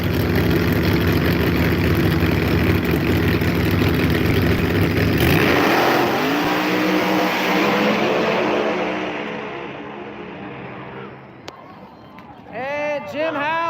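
Drag race cars on a no-prep street outlaw strip at Rockingham roar at full throttle, a loud sustained engine blast that fades away as they pull down the track, followed by crowd and announcer voices.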